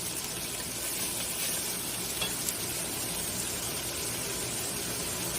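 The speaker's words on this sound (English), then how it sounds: "So we're gonna cook this curry" Curry with a little oil sizzles steadily in a pan while being stirred, a continuous close frying hiss with soft scraping throughout.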